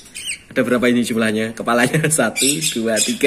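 Three young budgerigar parakeets give repeated sharp, close squawks and chirps while someone talks over them.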